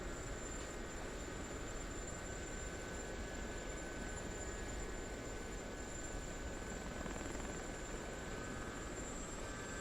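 A helicopter engine and rotor in a flight simulator video game drone as a steady, even roar with a faint high whine, with no talk over it.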